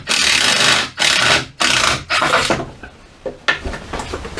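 An old timber trolley frame being taken apart in a small shed, with several loud wooden rasping, creaking pulls and knocks, close and irregular, then quieter clatter and bumps.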